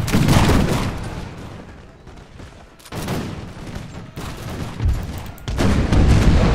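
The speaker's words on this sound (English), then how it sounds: "There's the canister shot." Canister shot artillery volleys in the Imperial Splendour Napoleonic-era strategy game: loud, rolling fusillades of overlapping booms arrive in several waves separated by brief lulls, close and dominant.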